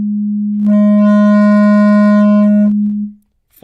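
A Kodamo EssenceFM MKII synthesizer sustains a single low note, then a saturator effect adds a bright, buzzing band of harmonics for about two seconds before the note returns to clean and fades out. The sound is loud, steady and alone.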